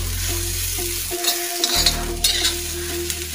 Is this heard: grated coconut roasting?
yes